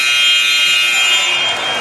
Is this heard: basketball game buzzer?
yes